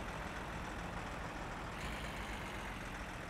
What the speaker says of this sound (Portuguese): tô escutando barulho de carro